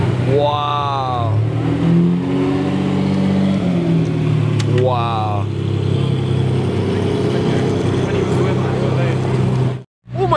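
A rare Ferrari Daytona Spyder engine revs loudly and close, rising and falling through two strong revs over a steady rumbling idle, while excited voices talk over it.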